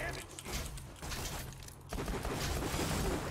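A gun in a cartoon Mad Max simulator video game lets off dense, loud rapid fire in sustained bursts with a brief dip partway through, rumbling game noise underneath and no clear talk.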